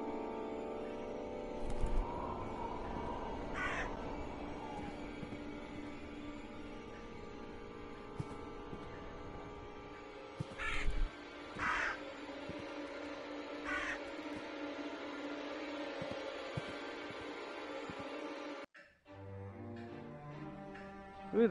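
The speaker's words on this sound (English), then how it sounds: "Oh, the crows are in here." Crows in the video game The Last Door caw in sparse, single harsh calls at irregular intervals, fairly faint over a low droning ambient music bed that cuts off abruptly near the end.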